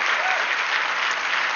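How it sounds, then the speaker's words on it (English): Dense, steady applause from a large audience fills the room at NARAL Pro-Choice America's 45th anniversary celebration, a loud continuous wash of clapping throughout. "Give yourself a round of applause"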